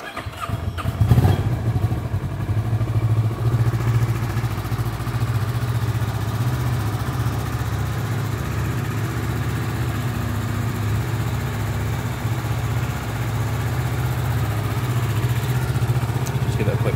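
A Kawasaki ER-6N motorcycle engine runs close by with a steady, throbbing idle and a brief rise in revs near the start, holding a constant level throughout.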